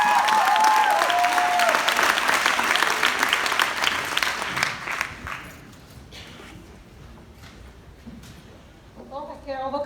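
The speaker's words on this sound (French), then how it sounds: "Applaudissez-vous, boys!" An audience claps loudly and steadily at first, then the applause fades and thins out over several seconds, with a few voices and scattered sounds underneath.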